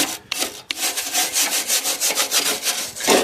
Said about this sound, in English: A little scraping off here.